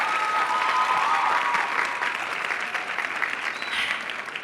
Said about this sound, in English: Another round of applause for Olga.